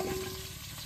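Cauliflower florets, rubbed with a little salt, fry in oil rendered from fish fat, giving a brief, soft, steady sizzle that stays low and close throughout.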